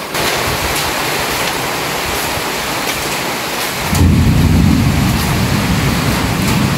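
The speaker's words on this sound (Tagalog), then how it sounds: "Ayan po, kumukulog." Thunder rolls during a heavy rainstorm on a windy morning: a dense, constant hiss of rain, then a deep, loud rumble swelling in partway through and continuing under the downpour, with no voices.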